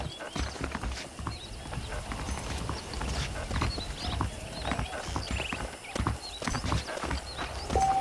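Horse hooves clip-clop steadily at a walking pace in the Western video game Red Dead Redemption, a close, rhythmic clatter of sharp knocks with faint ambient sounds behind.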